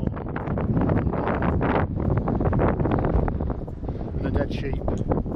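Strong wind buffets the microphone on a limestone hilltop above Malham, North Yorkshire, in gusty, rumbling bursts, with rustling and roaring throughout and no clear pauses.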